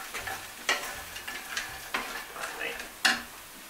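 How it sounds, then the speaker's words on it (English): Quorn mince sizzles in a frying pan while being stirred, with a steady fry hiss broken by several sharp scraping strokes of the spoon close by, no talking. "Just give that a good stir."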